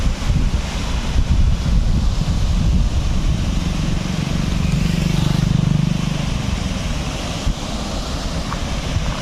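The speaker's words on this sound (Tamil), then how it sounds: "ஸோ தண்ணி சவுண்டு நிறையா இருக்குது." Water rushing through the gates of Panchapalli Dam near Denkanikottai, a steady loud roar with broadband wash and wind buffeting the microphone, continuous throughout with no voices.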